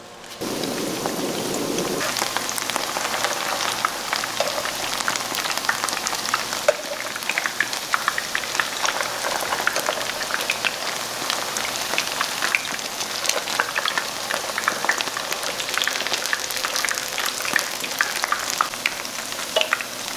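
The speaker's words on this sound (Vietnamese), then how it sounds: "Khi dầu đã nóng thì mình cho từng viên chả vào chiên." Steady, dense crackling sizzle of vegetarian patties frying in hot oil, continuous and close, with no talking.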